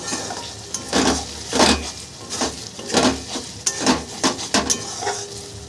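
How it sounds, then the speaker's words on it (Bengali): Ghugni dal tumbling into a pot of hot rendered beef fat, sizzling and frying loudly with repeated scraping stirs and utensil knocks against the pot. "এবার আমি ঘুগনির ডালটা দিয়ে দিচ্ছি।"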